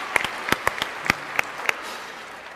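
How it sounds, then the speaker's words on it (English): Lecture-hall audience at a physics debate gives a short, thin round of applause: a handful of distinct, scattered claps ringing out sharply, then fading within a couple of seconds. "So I think we should all give him a round of applause."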